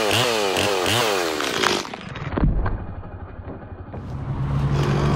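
A chainsaw cuts an open face notch into a large pine tree, the engine loud and close with revving pitch sweeps at first, then settling into a steady bogged-down cutting roar before climbing again.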